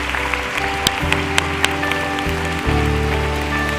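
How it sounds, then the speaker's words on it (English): A church congregation applauds new members over held musical chords, a soft continuous patter of claps with a few sharper individual claps standing out near the start. "let's give all our new friends a big round of applause"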